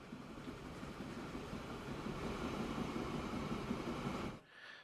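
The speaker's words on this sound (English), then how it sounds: "Well, there's our train." A cargo train rolls into a station in the video game Transport Fever 2, a steady rumbling rail clatter that builds and then cuts off abruptly near the end.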